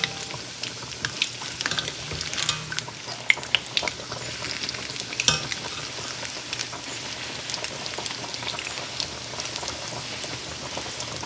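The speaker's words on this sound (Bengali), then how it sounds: "কাশ্মীরি পনিরগুলো ভাজা করে নেব।" Kashmiri paneer fries in hot oil in a pan, giving a steady, moderately quiet sizzle with scattered pops and crackles and no talking.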